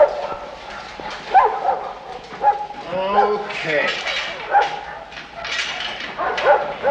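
A dog named Sniper barks and yips repeatedly on a city street, close and lively, mixed with people talking over it.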